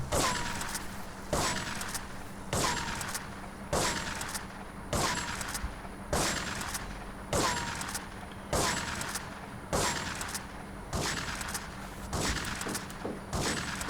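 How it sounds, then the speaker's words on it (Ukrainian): Rapid bursts of Grand Theft Auto III gunfire crack out in a steady rhythm of short volleys aimed at a trailer, loud and close, with no voices. "Давайте по цьому причіпу постріляємо"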